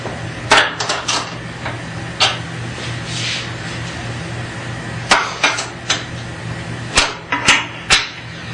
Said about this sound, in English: I'm just going to snug up the top nuts